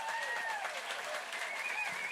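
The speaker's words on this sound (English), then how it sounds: "Everybody in the room and everybody at home, you can clap in your own room." Audience applause for a country singer fills the room, a steady dense clapping that holds for the whole moment at close range, with a couple of faint whistles riding over it.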